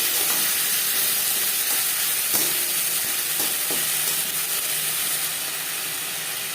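Chopped onion and small cherry tomatoes fry in a pan with a steady, close sizzle and hiss, broken by a few soft stirring scrapes, with no one talking.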